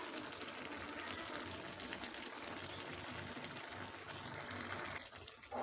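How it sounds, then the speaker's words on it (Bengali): Mustard oil is poured into pumpkin greens cooking in a pan, a faint, continuous hissing, liquid rush that fades briefly at the end. "দিয়ে দেব সামান্য সর্ষের তেল"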